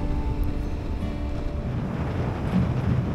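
Continuous low engine drone and water rush aboard a ferry crossing from Torsch to Spodsberg, steady and close with wind buffeting the microphone, no talk.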